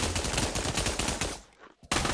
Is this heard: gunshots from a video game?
yes